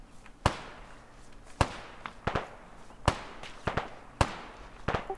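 Sharp, spaced gunshots from AK rifles in a video game, each a loud crack with a short tail, fired singly and in quick pairs at irregular intervals.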